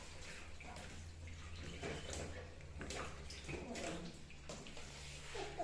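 Water splashes and trickles softly while puppies are bathed with soap, a faint, uneven wash of sloshing and dripping under occasional nearby speech.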